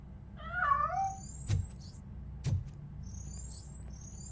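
A cat meows once, clear and near, in the video game RoboCop: Rogue City, followed by two dull thuds and faint high electronic chirps over a low hum.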